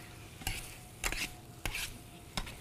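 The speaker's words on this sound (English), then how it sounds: "And stir it." Seafood paella with calamari and scallops being stirred in the pan, a few separate scraping strokes over a faint low sizzle, close and fairly quiet, no speech.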